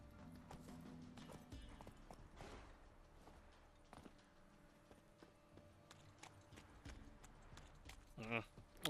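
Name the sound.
horse Roach trotting, from video game Witcher 3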